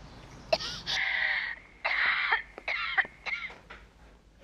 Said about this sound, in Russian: Мам, ты кашляешь?